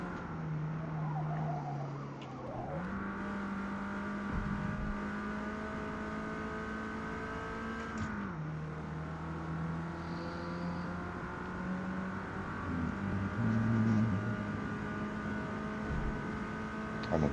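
Hot hatch engine in Forza Motorsport, revving up through the gears with steady rising whines, a sharp drop at each shift around two points, then a sustained high third-gear wind-up, close and loud, no talking.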